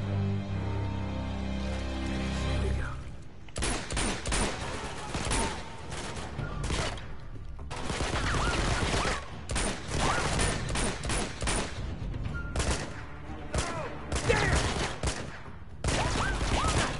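Rapid bursts of automatic gunfire from a weapon in the video game Uncharted 2: Among Thieves on PS4, loud fusillades in repeated clusters with brief gaps, with short moments of talk in between.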